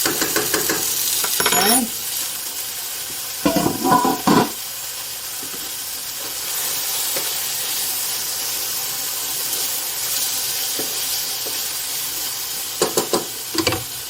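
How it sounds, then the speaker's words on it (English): Garlic sizzles and hisses steadily in a hot pan for a chicken and veggie stir fry, with clattering stirring bursts and a brief spoken word. "I'm going to put a little bit of garlic in here"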